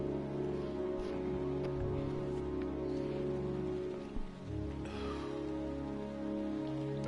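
Heavy rain in the game Heavy Rain, a constant dense downpour hiss layered over low sustained tones, steady throughout with a brief dip midway.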